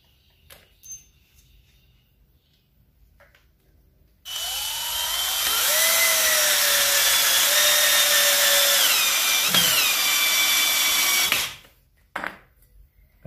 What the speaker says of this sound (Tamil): இந்த மாதிரி நம்ம ஸ்க்ரூ இறக்கும்போது